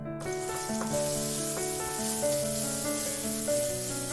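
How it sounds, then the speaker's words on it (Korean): Minced garlic and onion stir-fry in cooking oil, a continuous crackling sizzle running steadily beneath melodic background music. "식용유를 넣고 다진 마늘, 양파를 넣고 볶고"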